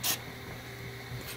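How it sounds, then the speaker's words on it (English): Two short bursts of hissing spray from cleaner sprayed through a carburetor jet on a 2003 Ski-Doo snowmobile, one at the very start and one at the end, with a quiet background between them. "We're going to spray a little cleaner through that"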